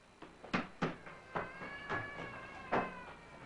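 A cat meows several times in short, distinct, harmonic cries spaced irregularly across a few seconds, fairly close and clear with no talking over it.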